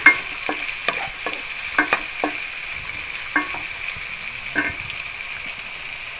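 Onions frying in oil in a pan for a bitter gourd palya, a steady bright sizzle with repeated stirring scrapes and clacks of a spoon against the pan throughout.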